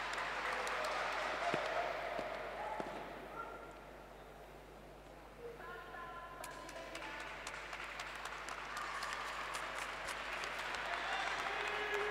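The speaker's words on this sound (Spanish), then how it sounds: "Los aplausos para Lorena Aires" Spectators at an athletics meet applaud an athlete, a distant, diffuse wash of clapping that dips midway and swells again, with a public-address voice and a steady low hum underneath.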